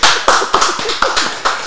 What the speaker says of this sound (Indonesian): Tepuk tangan buat kita semua, Bu.